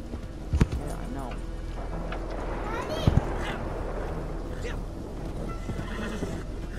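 A horse in a video game whinnies after hitting a pole, with a couple of sharp thuds and knocks around it, over a continuous background rumble.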